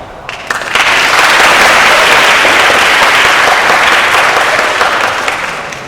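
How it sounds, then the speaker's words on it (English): A large audience at a school English pitching competition final bursts into sustained, dense applause that swells quickly and holds steady for several seconds before easing slightly. "Please applaud yourself."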